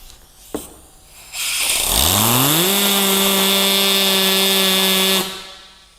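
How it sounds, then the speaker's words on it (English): A compressed-air gun hooked to an air compressor blasts forced air for drying a car: a sharp click, then a loud, steady roaring hiss with a rising whistle tone that holds for about three seconds before cutting off. "forced air from an air compressor"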